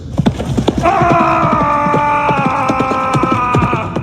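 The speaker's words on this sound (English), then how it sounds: "He swings his blade in circles and rides directly towards Fritz" Horse galloping in a battle game, rapid rhythmic hoofbeats throughout with a steady sustained tonal hum over them, loud and close.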